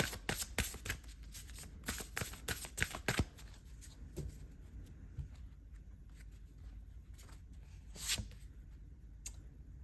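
Tarot or oracle cards are pulled and handled, giving quiet papery flicks and shuffling snaps, busy for the first few seconds and then sparse and faint.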